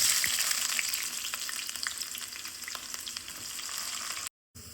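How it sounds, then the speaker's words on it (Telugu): Chopped onion sizzling in hot oil in a pan for a fish curry, a steady close crackling fry that fades slightly before a brief cut-out at the end. "ఫస్ట్ ఆయిల్ వేసుకుందాం, ఆ తర్వాత తరిగి పెట్టుకున్న ఆనియన్ వేసుకుందాం."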